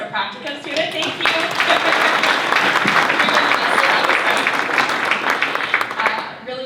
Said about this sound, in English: Can I just get a round of applause for Cameron?